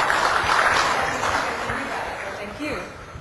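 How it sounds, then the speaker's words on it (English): A conference audience at HITB2011 in Kuala Lumpur claps for the organizers before a security talk. The applause is a broad, steady patter that slowly fades over a few seconds, with faint voices underneath. "give a big clap to Ami and all the organizers for making the conference available"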